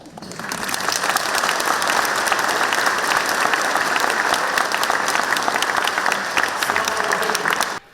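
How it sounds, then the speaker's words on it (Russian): An audience bursts into an ovation after a speech, loud dense applause rising quickly, holding strong and even, then cutting off abruptly near the end. "За этой речью последовали бурные овации."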